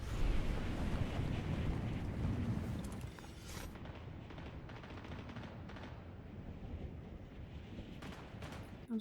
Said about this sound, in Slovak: Idem za tým, kde sa strieľa.